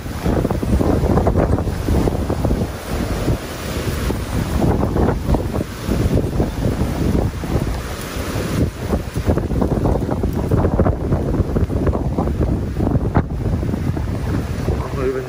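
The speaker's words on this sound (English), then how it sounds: "A lot of wind." Strong monsoon storm wind, gusting around 30 miles per hour, buffets the microphone in loud, continuous rumbling roars, surging and easing over water near palm trees, with no clear speech.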